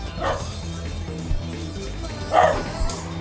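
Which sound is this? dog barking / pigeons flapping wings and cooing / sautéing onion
dog barking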